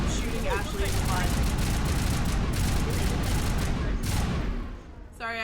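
Continuous heavy gunfire and explosions in a Mass Effect Legendary Edition battle against husks, a loud, dense barrage of rapid shots that barely lets up before dipping briefly near the end.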